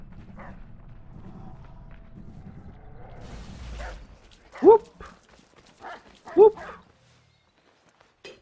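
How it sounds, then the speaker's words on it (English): A guard dog in Assassin's Creed III barks twice, a couple of short loud barks about two seconds apart, after game background sound and faint voices. "Also a guard dog, so that'd be very helpful."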